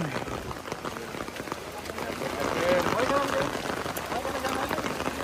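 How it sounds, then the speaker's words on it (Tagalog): Heavy rain pours steadily in a dense hiss, with people talking under the downpour. "Lakas ng ulan mga kabayan."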